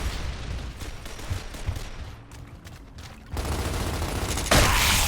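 Video-game gunfire crackles in a steady fusillade of rapid shots during cover fire, continuous throughout and growing denser and louder in the final seconds.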